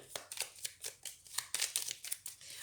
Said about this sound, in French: on va prendre des cartes supplémentaires, on va recouvrir.